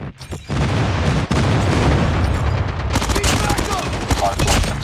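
Airstrike blasts boom and rumble in a Call of Duty Mobile Hardpoint match, a dense barrage of heavy explosions mixed with crackling gunfire, loud and continuous with a brief lull before renewed detonations.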